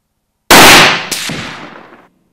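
A single sharp, loud shot from a .270 WSM rifle firing Norma Kalahari ammunition, with a ringing echo, followed moments later by a fainter second crack or echo.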